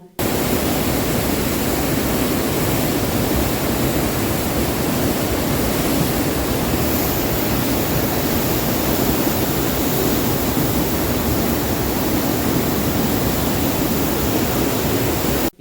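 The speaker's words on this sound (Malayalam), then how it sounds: "ആ പുഴ കുത്തി ഒഴുകി പോകുന്നത് നോക്കി നോക്കൂ" A river in torrential flood near the Meppadi landslide area, rushing with a dense, loud, unbroken roar of churning water from start to finish.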